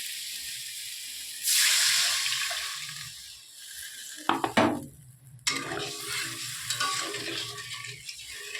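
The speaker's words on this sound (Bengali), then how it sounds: "এবার জল দিয়ে দেবো।" Water poured into a pan of sautéed spice paste for a fish curry sets off a sudden loud hiss that fades, then sharp clatters and a lower bubbling sizzle, all close by.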